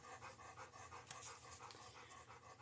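A dog pants close by in a quiet room, quick rhythmic breaths repeating steadily at low volume, with no speech over it.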